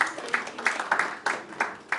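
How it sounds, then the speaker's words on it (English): Scattered hand claps ring out from an audience at a business conference, a few sharp claps at uneven intervals rather than a full, dense round of applause. "let's give a round of applause."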